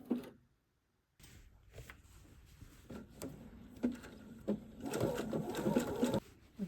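A sewing machine stitching appliqué letters with a tight, almost blanket stitch, running in short close bursts of rapid ticking with brief pauses between runs.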